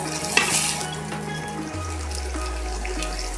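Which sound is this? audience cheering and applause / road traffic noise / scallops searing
scallops searing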